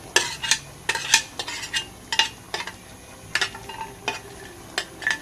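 Repeated scraping and clinking of a utensil against a pan while stir-frying spicy catfish, in irregular strokes, over a faint continuous sizzle close by.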